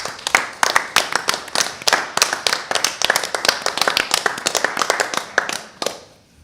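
A meeting audience at a Board of Aldermen session claps for several seconds, with sharp, uneven hand claps from a small group nearby that thin out toward the end.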